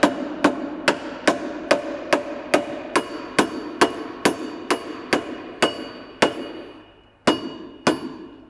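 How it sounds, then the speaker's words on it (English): Repeated dull rubber mallet blows on a billet aluminum control arm of a 2005-2009 Mustang, about two per second, striking solidly and close by, with a short pause before the final few hits. "like a rubber mallet that won't damage the billet aluminum"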